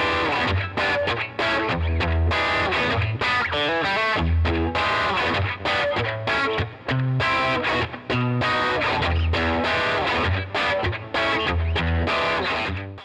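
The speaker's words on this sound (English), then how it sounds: "This is my Fender Player Series Strat, and it sounds kind of like this" Fender Player Series Stratocaster electric guitar played through heavy distortion and effects, with a dense, continuous run of rhythmic chords and riffs, loud and alone without talk.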